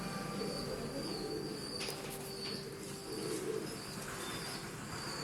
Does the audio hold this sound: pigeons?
yes